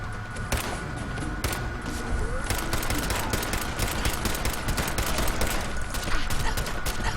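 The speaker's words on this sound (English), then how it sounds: "I'm just gonna shoot you a few times" Dense, sustained gunfire from a Fallout 4 firefight, rapid overlapping shots and bursts hammering continuously for several seconds at close range with no talk over it.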